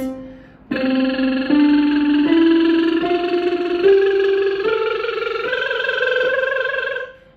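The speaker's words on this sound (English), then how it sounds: "gonna do a lip trill" A buzzing lip trill slides step by step up a C scale and back down, one continuous voiced tone held alone without pauses.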